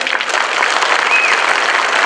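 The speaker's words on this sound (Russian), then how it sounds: "Еще раз аплодисменты." Crowd applause at a sports fighters' parade event, a dense, loud, continuous clapping that holds evenly throughout without any speech.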